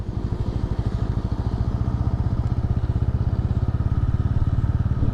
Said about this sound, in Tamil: ஓகே ஆக்சிலேட்டர் கொடுக்குறேன் thousand five hundred RPM moving RPM